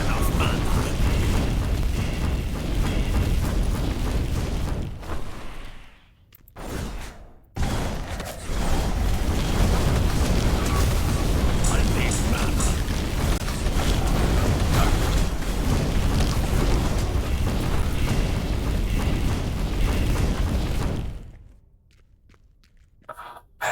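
Fire spell explosions in Heroes of Hammerwatch 2 roar and crackle like fireworks in a dense, loud, continuous barrage, briefly cutting out twice before resuming, then dropping away near the end.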